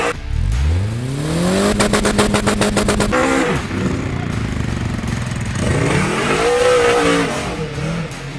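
A Polaris Xpedition UTV fitted with an RPM sport exhaust revs hard nearby, its engine note climbing, holding at high RPM with a rapid stutter, then dropping and surging again in repeated loud pulls.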